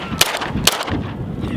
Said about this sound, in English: And since we're just shooting targets